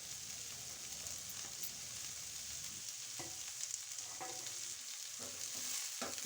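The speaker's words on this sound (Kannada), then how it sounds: "ಈರುಳ್ಳಿ ಒಂದು ಸ್ವಲ್ಪ ಫ್ರೈ ಆದಮೇಲೆ ಬೆಳ್ಳುಳ್ಳಿ ಜಜ್ಜಿಟ್ಟಿರೋದು ಸೇರಿಸ್ಕೊಳ್ಳಿ" Onions frying in a pan with crushed garlic added for Andhra-style palak pappu, a steady sizzle with scattered stirring clicks and scrapes, close and continuous with no talk.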